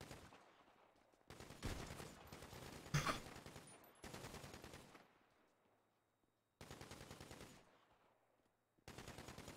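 Automatic gunfire in a role-play shooter game, heard in several long sustained bursts separated by brief pauses, loud and rapid, with no speech over it.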